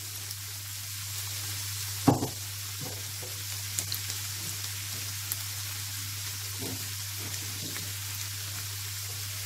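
Vegetables fry in a pan for a zarzuela, a steady close sizzle and crackle with a low hum beneath and a few light clinks of stirring, with no talk.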